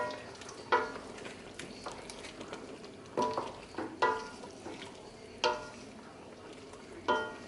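Homemade chow chow vegetable pickle relish, made without vinegar, with the vegetables cooked soft, being stirred in a pot: a low simmering bed with sharp scraping clinks recurring every second or so, close by and without talk.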